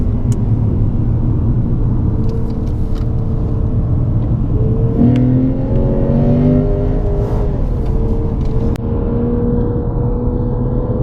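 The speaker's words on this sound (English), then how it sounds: "We're just gonna wind those hands, squeeze that gas pedal on down." A Lexus at a performance driving school on a race track accelerates hard out of a turn, its engine droning loud and steady inside the cabin, pitch climbing through the gears with brief shift dips.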